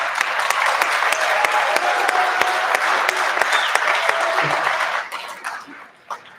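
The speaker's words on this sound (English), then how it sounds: "let's get a big round of applause" An audience applauds after a high school band concert, a dense, loud wash of clapping that holds steady for about five seconds, then thins out and fades to a few scattered claps.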